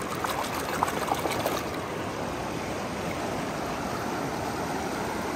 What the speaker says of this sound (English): Let's put the jellyfish down in the water.